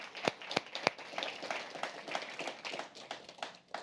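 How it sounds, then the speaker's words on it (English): A conference audience applauds a speaker at a keynote, opening with a few sharp, close claps before a thinner spread of clapping continues at modest volume. "round of applause to you for everything you do."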